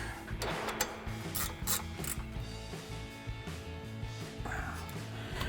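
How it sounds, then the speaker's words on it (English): A 12 mm ratcheting wrench tightening brake bolts on a 1999-2004 Mustang during a brake rotor and pad install, rapid repeated ratchet clicks in short bursts, close and fairly quiet, no talking. "I'm going to take my 12 millimeter ratcheting wrench, tighten these up."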